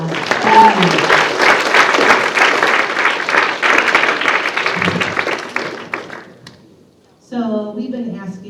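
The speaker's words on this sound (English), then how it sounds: "Let's have another round of applause." Audience applause at a writers week event, a dense sustained round of clapping from a crowd for about six seconds, fading out before a voice begins speaking.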